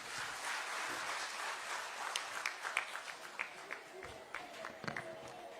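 Audience applause at a cooperative fair opening in Dehradun, India: a steady wash of many hands clapping, heard from a distance at moderate volume, thinning into scattered sharper claps.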